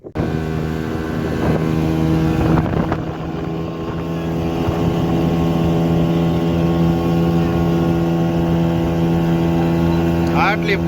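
A motorboat engine drones steadily and loudly throughout a boat ride at Dwarka, its low hum constant beneath wind buffeting the microphone while people talk over it.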